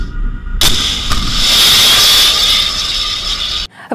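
Shtil anti-aircraft missile fired from the frigate Admiral Grigorovich during Black Sea drills: a sudden blast opens into a loud, sustained roaring hiss of the rocket motor lasting about three seconds before cutting off.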